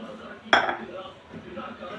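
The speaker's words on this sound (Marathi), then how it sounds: "अर्धा वाटी तुरीची डाळ टाकून" Half a bowl of tur dal lands in a cooking pot alongside washed greens, with a single sharp clink of metal and a soft rattle, faint and brief over room noise.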